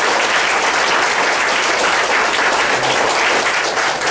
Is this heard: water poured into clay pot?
no